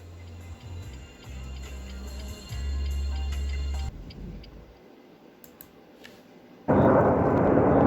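Airplanes fly over a city preparing for May 9 celebrations. A deep, steady rumble holds for a few seconds, then fades to quiet before a sudden loud wash of noise sets in near the end.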